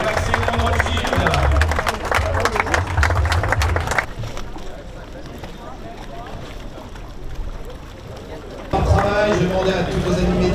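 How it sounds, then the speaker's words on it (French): A crowd on a race-finish pontoon cheers and claps for the Maxi Edmond de Rothschild racing trimaran crew, a loud burst of applause and voices that drops to a quieter hubbub mid-clip before swelling again, with a voice speaking over it. "On peut d'ores et déjà les applaudir très très fort."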